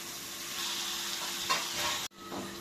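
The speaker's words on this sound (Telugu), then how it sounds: "ఇప్పుడు చికెన్ వేసుకొని ఫ్రై చేసుకుందాం." Chicken sizzles loudly in a pan with ginger garlic paste for a chicken fry biryani, with spoon stirring scrapes over a continuous fry. The sound cuts off abruptly near the end, then resumes.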